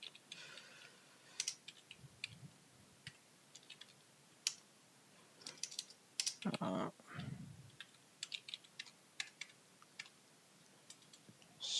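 A command is typed on a computer keyboard, producing irregular bursts of quiet, close key clicks with short pauses and a faint thump midway.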